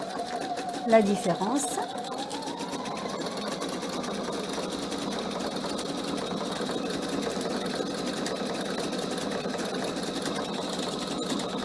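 PFA sewing machine stitching a cushion cover, running as a steady, continuous whir for the whole stretch, with someone talking over it near the start.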